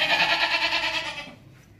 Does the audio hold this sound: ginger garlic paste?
no